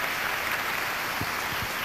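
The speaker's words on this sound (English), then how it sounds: "Let's have a big round of applause for that kind of money." A short burst of audience applause at the Miss Mississippi 2000 beauty pageant: a thick, even wash of many hands clapping, fairly close and constant throughout.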